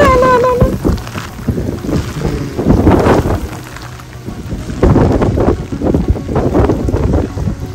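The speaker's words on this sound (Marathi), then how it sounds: "मस्त वार सुटला" Strong monsoon wind gusts buffet the microphone in heavy rushing bursts at a reverse waterfall in the Naneghat hills, loud and close, with faint voices underneath.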